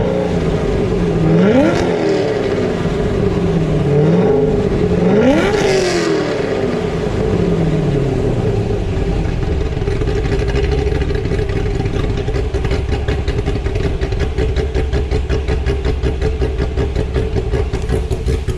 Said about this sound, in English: Give it a couple revs here.